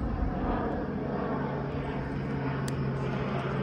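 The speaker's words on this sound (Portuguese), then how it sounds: "Nossa, o avião passa pertinho aqui" A steady, heavy engine roar of a low-flying airplane fills the whole stretch, broad and loud with no letup.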